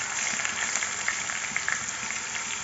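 Garlic-ginger paste sizzles in a hot pan while dal is being cooked, making a steady, dense crackling hiss that stays even and close throughout, with no talking.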